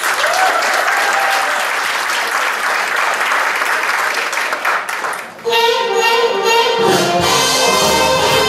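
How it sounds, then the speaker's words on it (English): A ballroom crowd at the Bal des Étoiles 2015 breaks into dense, loud applause for fox trot dancers Marc and Stéphane, clapping for about five seconds before dropping off as music begins. "Alors, on applaudit bien fort Marc et Stéphane."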